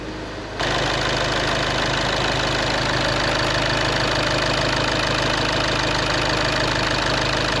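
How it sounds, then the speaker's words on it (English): After a short quiet lead-in, a VW Passat 2.0L diesel engine, after injector replacement, idles with a constant, even clattering rumble close by. "The engine is started."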